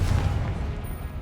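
A Confringo explosive spell fires in Hogwarts Legacy, a deep booming blast with rumbling low-end that swells at the start and rolls on steadily through the short moment.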